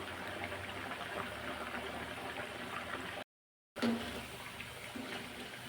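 Batakya snacks fry in oil in a home kitchen, a soft, steady bubbling and faint sizzle heard close by, interrupted by one short silent gap.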